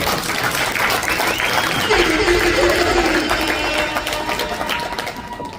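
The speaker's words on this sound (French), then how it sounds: "s'il vous plaît, on peut faire une grande applaudissement" A crowd gives big applause for event organizers in Granby, steady clapping with scattered voices and whistles, fading slightly toward the end.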